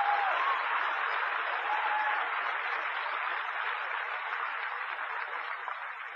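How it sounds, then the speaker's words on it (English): A church audience applauds after a sermon, a dense, even wash of clapping that holds steady for about six seconds and fades slightly toward the end, with no voices over it. "I don't know why you're clapping."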